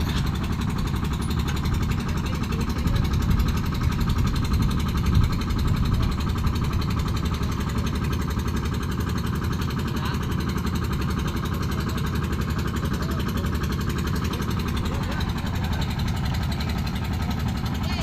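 A small engine running steadily after fluid was added, a continuous close rumble with a rattly, jackhammer-like chatter that holds evenly throughout.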